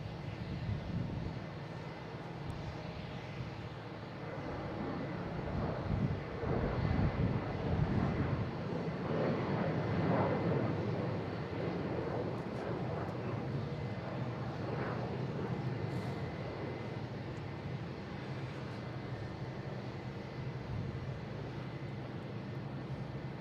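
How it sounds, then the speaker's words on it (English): Delta Air Lines Embraer E175 airliner taking off at Boston Logan International Airport, a steady loud jet engine roar building and holding throughout, with wind buffeting the microphone. "And we got Delta taking off, heading to Reagan E175"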